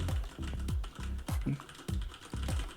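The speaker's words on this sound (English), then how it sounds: "This is me typing" Rapid keyboard typing, close up, picked up by a Fifine USB microphone, a steady run of clattering key presses with uneven rhythm and no voices.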